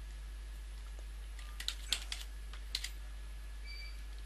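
A computer keyboard clicks out a short burst of a few quick keystrokes while someone works in SolidWorks, set against a quiet, steady low electrical hum, with no talking.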